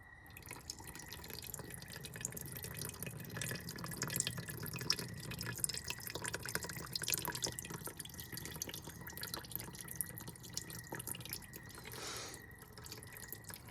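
Gasoline dripping and spattering from a disconnected fuel feed line on a Subaru WRX during engine removal, a steady close patter of liquid drops running throughout with no talk.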